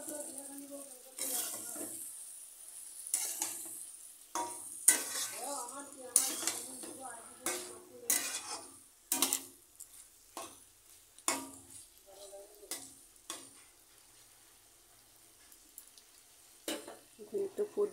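Fish curry with added milk simmers in a pan, faint bubbling under repeated clinks and scrapes of a utensil against the pan, with quiet pauses between the knocks.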